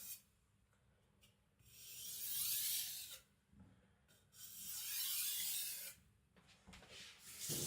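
A soft knife being deburred on a sharpening stone, two long gritty hissing rubs separated by quieter scraping strokes, close and faint with no talk.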